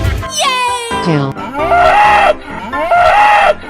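A cartoon cow gives three loud, drawn-out mooing calls in quick succession, each with a bending, wavering pitch.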